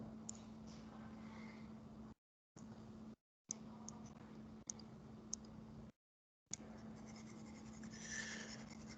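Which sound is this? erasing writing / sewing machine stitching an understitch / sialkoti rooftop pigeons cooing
erasing writing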